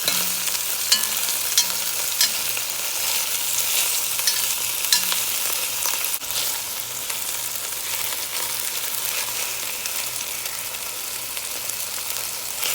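Wild doves fry and brown in a pan, a loud continuous sizzle and crackle that holds steady throughout, with a few faint clicks near the start and a brief thump midway, close up and alone.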